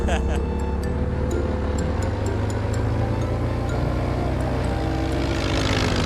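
A tractor engine in Farming Simulator 19 drones steadily and loudly throughout, a continuous low rumble with faint voices underneath.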